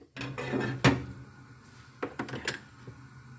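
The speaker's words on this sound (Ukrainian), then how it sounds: "ставимо сковорідку на газ" A metal frying pan clanks down onto a gas stovetop with a sharp knock, followed by a few lighter clinks and scrapes nearby.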